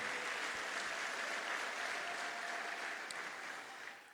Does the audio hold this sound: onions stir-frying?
no